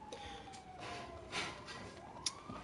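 Siren of an ambulance in the video game GTA 5, a faint sweeping wail rising and falling steadily under quiet game ambience, with no one talking over it.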